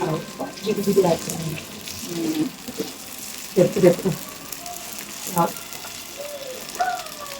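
Patrode, rolled leaf snacks, fry in a pan with a soft, constant sizzle running underneath intermittent nearby talking.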